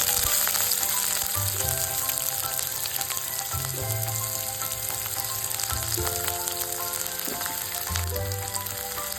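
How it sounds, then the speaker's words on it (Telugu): Chopped onion and curry leaves fry in a pan with a constant loud sizzle, while a low rhythmic hum rises and falls every couple of seconds beneath it. "వీటిని కొంచెం ఫ్రై చేసుకోవాలి."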